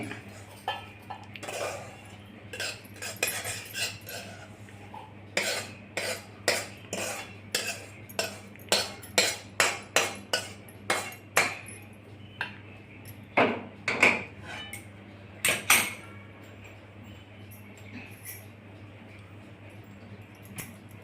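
Semolina (rava) roasting in a home kitchen pan, stirred with a metal spoon: a long run of sharp, irregular scrapes and clinks against the pan, close and clear, with quiet gaps between bursts.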